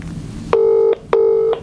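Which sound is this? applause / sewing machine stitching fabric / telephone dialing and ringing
telephone dialing and ringing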